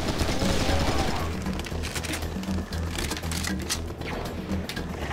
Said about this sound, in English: Shoot that guy. He has a Gatling gun.